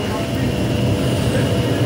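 Metro train at Jesmond Metro station on the Tyne and Wear line, a steady low rumble filling the platform, with a faint voice over the continuous roar.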